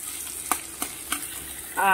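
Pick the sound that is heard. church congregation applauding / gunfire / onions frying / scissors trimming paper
onions frying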